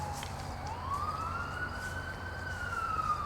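A siren wails in a rising and falling tone over steady street traffic rumble, fairly distant, with no voices.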